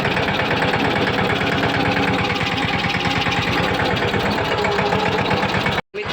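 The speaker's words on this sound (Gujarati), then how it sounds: "મિત્રો અટાણે જો ટ્રેક્ટર હાલે છે આપણું" A tractor engine running steadily close by, a loud, even rhythmic chugging with a regular knock that holds throughout and cuts out briefly near the end.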